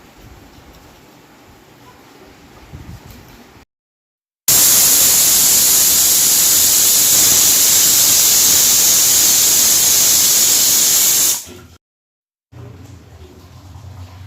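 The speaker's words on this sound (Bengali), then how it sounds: "বাইরে বৃষ্টি হচ্ছে" Heavy rain pours outside in a dense, steady hiss that begins abruptly after a short silence, holds for about seven seconds and cuts off sharply, with quieter indoor room sound before and after.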